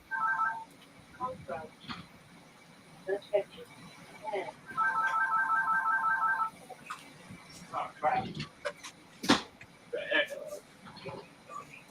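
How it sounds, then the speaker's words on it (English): A work phone rings in repeated electronic trilling bursts, with a long ring in the middle and shorter ones at the start and end, over scattered clatter and people talking. "The work phone."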